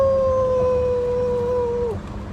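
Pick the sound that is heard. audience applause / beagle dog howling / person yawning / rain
beagle dog howling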